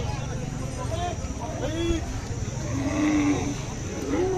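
Cows low several times in drawn-out moos, mid-distance, at a weekly cattle market in Kashti, Maharashtra, over a busy background of people talking and general crowd noise.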